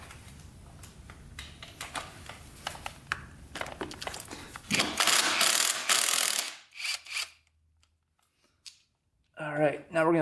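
A ratchet with a 10 mm socket on a Honda 300ex quad, turned to bring the engine to top dead center: a run of close clicking pawl strokes building into a louder burst, then quiet, with someone talking near the end.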